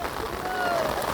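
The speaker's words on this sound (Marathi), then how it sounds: "पाऊस पण आला आहे जोरात" Heavy rain pouring down on a village field during a downpour, a dense, steady hiss of drops filling the brief moment, with a voice faintly present underneath.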